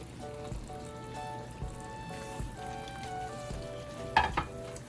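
Smoked sausage sizzling in a skillet for a shrimp and crawfish étouffée, a soft steady frying hiss with occasional stirring scrapes and a few louder crackles under a faint tonal hum.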